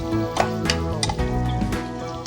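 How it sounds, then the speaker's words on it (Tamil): Paneer and green chillies sizzle as they are sautéed in a pan for paneer biryani, a steady close frying hiss with stirring scrapes and no talking. "பன்னீர் போடுறதால நம்ம கொஞ்சம் தாராளமாகவே இருக்கலாம் தப்பு இல்லை நல்லா வதக்கிடுவேன்"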